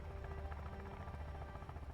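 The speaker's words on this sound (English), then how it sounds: "Going in choppers." Helicopter rotor drone from the Sons of the Forest video game, a steady low throbbing hum that holds loud and continuous throughout with no talk over it.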